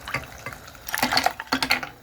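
Ice-cold water poured into a pot of Kashmiri pink tea after baking soda is added, giving a close, irregular splashing and gurgling that comes in two stronger bursts with no talking.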